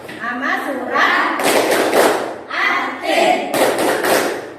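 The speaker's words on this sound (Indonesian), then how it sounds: "Ayo sama-sama tepuk atin." A class of schoolchildren performs a rhythmic tepuk clapping chant during an Islamic religious education lesson, with bursts of group claps and thumps mixed with chanted voices, loud and close throughout.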